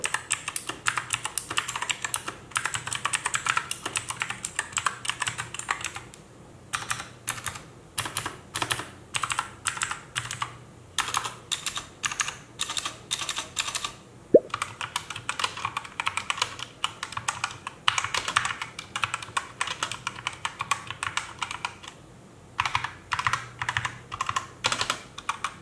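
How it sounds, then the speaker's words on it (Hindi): Rapid mechanical keyboard typing, close and crisp, in steady bursts of clacking keys with short pauses between runs, no voices. "typing and sound test"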